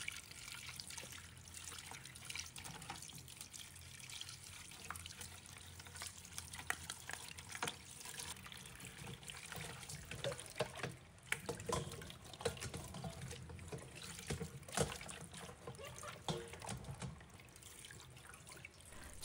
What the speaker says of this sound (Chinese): 刷洗后用清水反复冲洗。